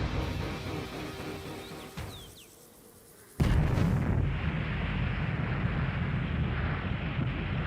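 A massive blast from the Trinity nuclear bomb test in the New Mexico desert erupts suddenly after a quiet lull, becoming a loud, sustained roaring rumble that fills the air with no voices.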